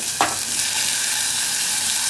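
Onion and tomato sizzle steadily in a hot spiced tempering with curry leaves, starting with a sharp hiss as they hit the oil, then a continuous close, loud frying crackle.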